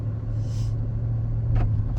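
A 2007 Chrysler 300 with a 5.7-litre V8 pulls away with a steady low engine rumble and a brief hiss partway through, heard from inside the car without talk.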